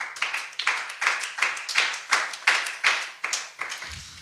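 Congregation at an evangelical French-language church service clapping in unison to acclaim the Holy Spirit, a steady rhythm of about two claps per second that stays loud and close throughout.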